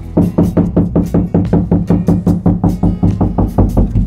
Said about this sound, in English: Now what I generally do is knock on the wall